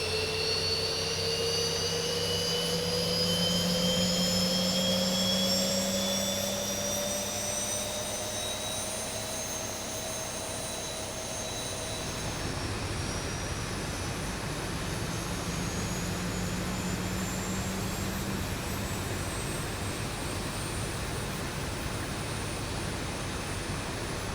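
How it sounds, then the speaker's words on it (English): A Boeing 737 jet engine in the X-Plane 11 flight simulator spools up. A steady, loud turbine roar carries rising whines that climb in pitch and level off, then settle into a constant whooshing hum with no talk. "we'll go ahead and we'll start engine number 2"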